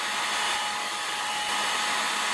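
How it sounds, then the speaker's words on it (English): A hair dryer blows steadily and loudly, close by, as it warms and melts old grease on a Brooks B66 leather bicycle saddle. The whoosh holds even with no pauses. "After a long session with the hair dryer, the grease has melted sufficiently"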